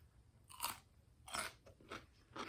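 Biting into and chewing a crunchy homemade dill pickle, four crisp crunching bursts in uneven rhythm, close and faint with no talk.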